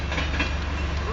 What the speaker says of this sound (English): It's a grain train.